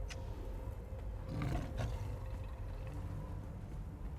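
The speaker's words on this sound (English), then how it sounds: "What was that lion sound?" A lion roars in the video game Conan Exiles, a deep rumbling growl that swells in the middle over a constant wind-like backdrop, with no talk.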